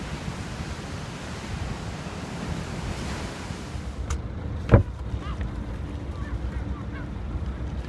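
Waves break and wash continuously at a marina entrance with wind rushing across the microphone, a sharp knock near the middle, and faint distant seagull calls later.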